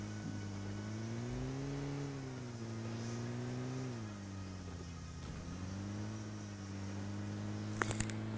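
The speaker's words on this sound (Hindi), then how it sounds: "फिर इधर से अपनी गाड़ी को लेके चलता हूँ" Video game vehicle driving, a steady engine drone with shifting pitch as the car speeds up and slows, continuous and fairly quiet, with a brief clatter near the end.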